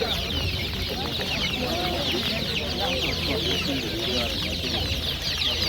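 Constant high-pitched peeping from a large batch of one-month-old chicks at a bird market, close and unbroken, with distant voices and market bustle beneath.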